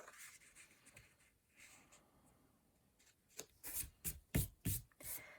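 Scissors or snips dragged along the edge of cardstock while crafting paper poinsettia petals, a run of short, close, dry scraping strokes in quick succession after a quiet stretch of faint rubbing.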